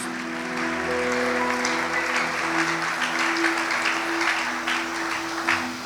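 A church congregation applauds at a Sunday worship service. Steady, dense clapping carries on throughout with sustained organ or keyboard tones underneath.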